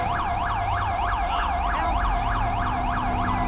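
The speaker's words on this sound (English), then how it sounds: "I don't know why EMS is running with their lights and sirens going." An EMS vehicle siren in GTA V wails in a steady rapid yelp cycle, loud and continuous, over a low engine rumble.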